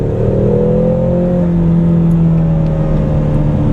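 A 2015 Ford Mustang with the 2.3-liter EcoBoost four-cylinder accelerates, its loud, somewhat rough engine drone rising steadily in pitch over road noise, with no talking.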